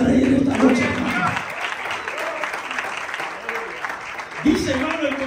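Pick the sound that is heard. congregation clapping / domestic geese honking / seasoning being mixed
congregation clapping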